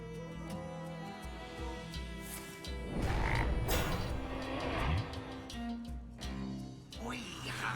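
In Hearthstone, a Hex-transformed minion lets out a frog croak: a few deep croaks in the game audio, mixed with a burst of game sound effects, then quieter sounds.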